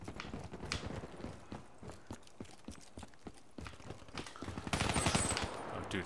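Gunfire rings out in Call of Duty: Black Ops 3 during a Hardcore Kill Confirmed team match on Xbox One. Sharp shots come in rapid, fairly loud bursts, with a denser cluster of fire near the end.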